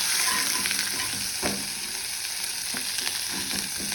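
Garlic chutney sautéing in a pan with dried red chillies and spices, giving a steady close sizzle with a few scraping spoon strokes against the pan. No talk.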